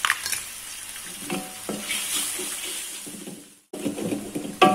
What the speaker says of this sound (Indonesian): Kita aduk cepat-cepat ya supaya telurnya tidak gosong.